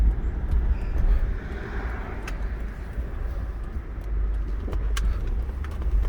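A high-mileage 2004 Lexus GX470 cruises down the road, giving a steady low rumble of engine and tire noise with a few faint clicks and rattles and no speech.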